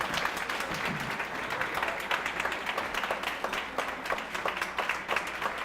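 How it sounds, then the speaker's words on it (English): Audience applause at a women's excellence awards ceremony: dense, steady clapping from a large crowd filling the room, sustained at even loudness throughout with no pause. "let's give another big round of applause for our great, well, come on, give her a standing ovation"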